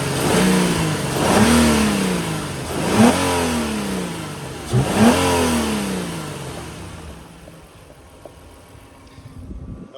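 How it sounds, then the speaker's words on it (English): The engine of a 2003 Nissan Murano SL AWD with 146,000 miles revs in three rising and falling swells at moderate loudness, then settles back toward a quieter idle; no talking. "Let me see if I can rev it up a little bit."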